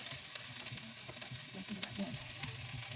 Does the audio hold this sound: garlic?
yes